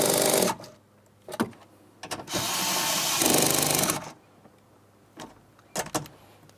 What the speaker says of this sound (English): We're going to go ahead and tighten up these mounting nuts.